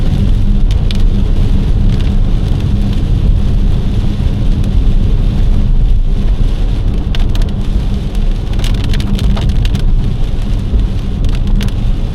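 A violent thunderstorm in Montérigie, Quebec, brings heavy rain pouring steadily onto surfaces with a deep rumbling low roar throughout, loud and dense, with scattered sharp drop impacts and no voices.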